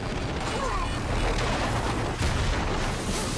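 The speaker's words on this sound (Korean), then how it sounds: "결국 접전을 펼치던 두 대의 헬기가 충돌하고 맙니다" Two helicopters collide in a chase scene from the movie Mission: Impossible – Fallout, with a loud, dense roar of crashing impact and rumbling booms that continues without a break.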